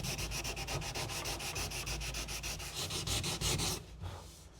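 Rapid back-and-forth sanding strokes rasp over fiberglass on a kayak hatch, close and rhythmic, then stop abruptly near the end.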